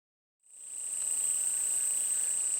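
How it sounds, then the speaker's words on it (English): Cicadas outdoors at a shooting range start buzzing abruptly and then hold a loud, steady, high-pitched shrill drone that continues unbroken to the end. "Now the cicadas seem to be cooperating for the moment."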